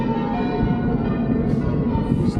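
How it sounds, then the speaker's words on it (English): Church bells ring in Petersfield during an early-morning bikepacking ride, a steady dense peal of overlapping tones that fills the whole stretch without pause. "They're ringing the bells."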